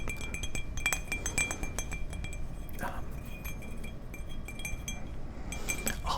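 Glass objects clink and tap close up in a whispery ASMR setting, with a series of bright, sharp chinks in irregular clusters over a soft background.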